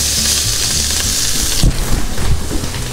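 Food sizzles steadily in hot olive oil in a pan, a dense, loud crackle with a brief stir or shift in the middle and no voices.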